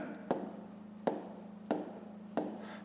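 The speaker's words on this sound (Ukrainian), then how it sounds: "Записуємо 5945." Pen or pencil on paper writing numbers by hand during a math exercise, four distinct tapping strokes spaced under a faint steady hum.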